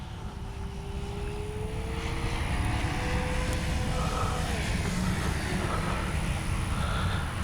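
A Durafly FG-1 Corsair RC model airplane drones steadily in a hard dive, its engine whine shifting pitch gradually over a constant rumbling wind and motor noise outdoors, with no talking.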